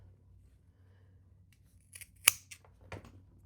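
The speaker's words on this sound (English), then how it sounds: "I got my pinking shears, and that's what I do the corners with" Pinking shears snipping through fabric at the corners of a custom crochet piece, a few crisp cuts close by with one sharp loud snip in the middle, otherwise quiet.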